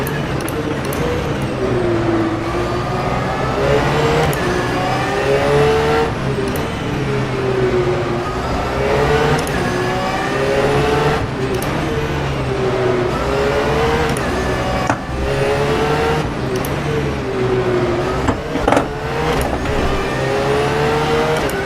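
A Porsche 911 GT3 R racing at Adelaide in the rFactor 2 sim revs hard and repeatedly, climbing through the gears and dropping back under braking in a steady, loud rhythm of acceleration and shifts.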